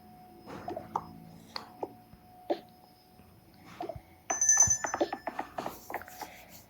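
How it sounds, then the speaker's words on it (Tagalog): Cellphone ringtone going off indoors, a short bright electronic tone sounding midway amid scattered knocks and handling noises. "sorry, yung cellphone ko pala."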